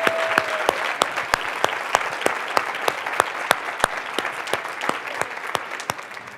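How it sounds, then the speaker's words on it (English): Steady applause from a summit audience at a mentoring event plenary, a continuous wash of clapping with a few crisp nearby claps punctuating it regularly. "I would love to give a round of applause to our team who makes everything go on the event"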